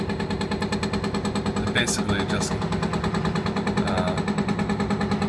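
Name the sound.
hydraulic hammers demolishing a building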